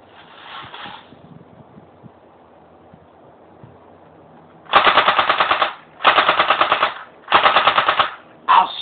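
Rapid automatic gunfire in three long close bursts and a short fourth one, each a loud dense rattle of shots, after a quieter stretch of low rustling and a brief windy noise.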